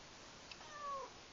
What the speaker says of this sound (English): Hey, that's Sassy Cat again